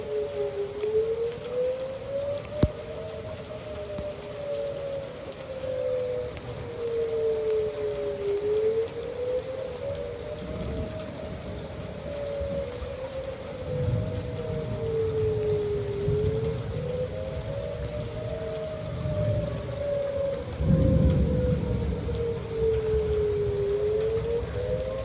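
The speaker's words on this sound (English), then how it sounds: "It's raining heavily." Heavy rain pours steadily during a tornado warning storm, with a wailing civil defense siren rising and falling in the distance throughout, and no voices.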